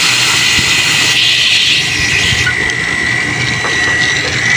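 Electric water pump motor running steadily to supply a water heater, a loud continuous whine and hum with a steady high tone, close and alone without speech.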